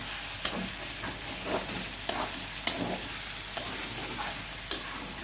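Meat sizzles steadily in a hot pan while a spoon stirs it, with a few sharp scraping clacks against the pan over a soft, constant frying hiss.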